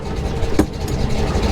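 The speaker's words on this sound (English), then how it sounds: "It's idling at 950 RPM, which is a little high" A Monte Carlo engine idles steadily at about 950 RPM with a slightly high idle, a continuous low rumble close by with one brief sharper blip partway through.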